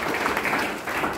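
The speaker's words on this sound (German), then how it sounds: "Bitte Applaus, natürlich Applaus." Audience applause at a welcoming event in Vienna, a dense even wash of many hands clapping at moderate loudness, continuous through the brief moment.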